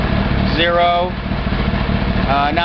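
A Honda 1000RR motorcycle engine idles steadily throughout, a continuous low drone, with someone talking over it the whole time.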